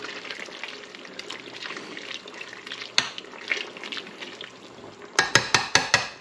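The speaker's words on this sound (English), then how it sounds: "Give it a good stir." A utensil stirs jalapeno hot sauce cooking in a pot, making soft liquid swishes. Near the end, a quick run of sharper scraping knocks against the pot.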